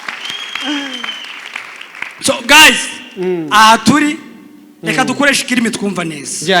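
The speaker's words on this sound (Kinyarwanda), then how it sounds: "amashyi menshi kuri seti nyaboneka." An audience at a live stand-up comedy show breaks into bursts of clapping and cheering while a comedian keeps talking over the noise.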